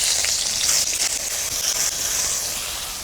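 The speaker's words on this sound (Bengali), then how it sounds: "ওই তেলে এই বেগুনগুলোকে দিয়ে দিবি।" Eggplant pieces frying in hot oil left over from frying lentil dumplings, a steady loud sizzling hiss that holds evenly throughout with no voices.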